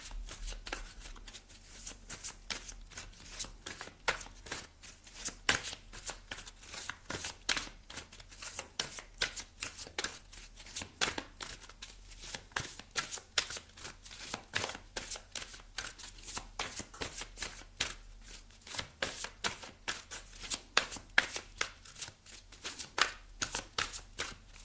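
Oracle cards shuffled by hand for a long stretch, a steady run of quick papery riffles and slaps close to the microphone with no talk.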